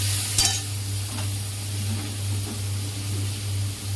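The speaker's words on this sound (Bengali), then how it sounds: "এবার নাড়বো, নাড়তে নাড়তে সামান্য জল দেবো, বেশি জল দেবো না।" Spice paste and yogurt are stirred in a hot pan, producing a constant close frying sizzle with a sharp scrape near the start and soft irregular stirring sounds over a low hum.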